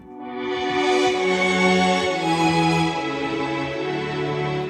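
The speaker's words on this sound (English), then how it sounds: "Layered up with this massive string sound." Big layered string pad chords ring out on a Nord Stage 3 keyboard, full and sustained, changing harmony midway while staying loud and smooth.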